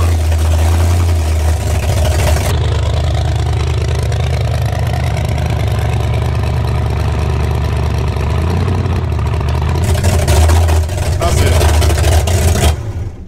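A 1931 Ford hot rod engine rumbles loudly up close and revs hard, its deep throbbing note rising and falling, with people talking over it.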